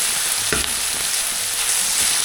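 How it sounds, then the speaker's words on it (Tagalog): Tomatoes going into a hot frying pan for a Filipino dish of string beans with chicken feet; a loud, dense, steady sizzle close up, with one soft thump as they land and no voices. "Ilagay na rin natin ang kamatis"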